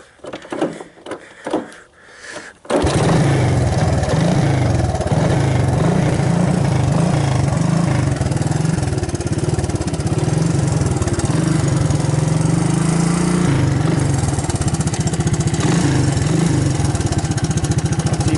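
A few quiet clicks and fumbling, then the small engine of a 1985 Honda ATC 200S ATV cranks from cold and catches, settling into a loud, steady idle with a slight rhythmic chug.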